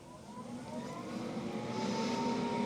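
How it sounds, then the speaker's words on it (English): A Traeger smoker's startup alarm wails in a steady electronic tone, rising slightly in pitch over a low mechanical hum, loud and close, with no talking. "The danger alarm comes on."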